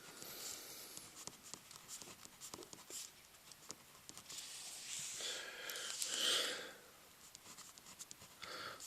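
Pen or pencil scratching on paper while a math equation is written out, a close, quiet run of short strokes and taps that builds to a denser scribble near the end.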